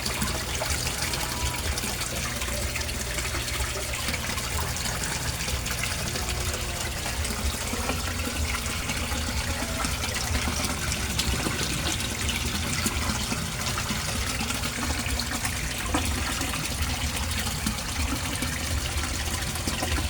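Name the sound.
aquarium aerator air pump running, water bubbling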